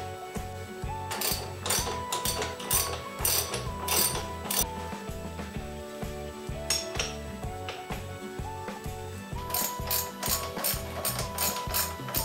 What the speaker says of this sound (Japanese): 次はショックとタイロッドのボルトナットを緩めて外していっています。